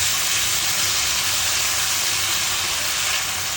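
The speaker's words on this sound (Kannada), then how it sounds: "ಟೊಮೊಟೊ ಹಾಕಿ ಸ್ವಲ್ಪ ಫ್ರೈ ಮಾಡ್ಕೊಳ್ಳಿ" Tomatoes fry in a pan after ginger-garlic paste for a mushroom and soya sukka, giving a loud, steady, dense sizzle that holds unbroken from start to end with no talk.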